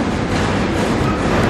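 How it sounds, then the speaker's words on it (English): A passenger train running from Wörgl toward Verona gives a continuous, loud rumble and rolling rail noise from inside the carriage, steady with no speech. "So I'm taking the train from Wörgl to Verona"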